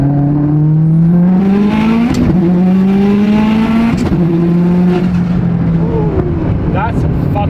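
A Subaru STI with a stock block making over 600 wheel horsepower accelerates hard, its loud engine note climbing steadily, dropping briefly at shifts and rising again through the gears, heard from inside the car.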